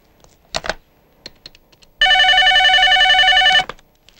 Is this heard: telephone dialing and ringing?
yes